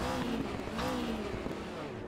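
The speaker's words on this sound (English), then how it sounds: "let's focus on the sound a little bit here of the Nissan. Sounds aggressive." A Nissan Group C race car engine in the RaceRoom racing game, a raspy, aggressive engine drone that holds steady with slight pitch wavers over a couple of seconds.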